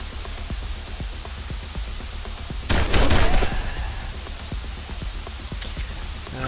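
Gunfire in the video game Wasteland 2: a short, loud burst of shots around the middle over a steady hum of game ambience, with faint scattered clicks on either side.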